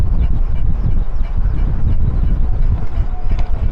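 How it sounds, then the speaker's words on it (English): Wind gusting along a Washington waterfront, buffeting the microphone with a loud, low rumble that rises and falls continuously for a few seconds, with no clear voices. "Woo, windy."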